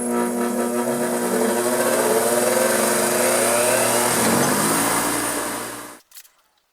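Small gasoline engine on a pressure washer, just repaired, roaring loud and steady for about six seconds before abruptly cutting off, then a few faint rattles as it stops.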